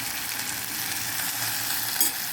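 Onions, tomatoes and curry leaves sauté in a pan for manathakali kulambu, giving a steady, close sizzle that hisses evenly throughout with no voices.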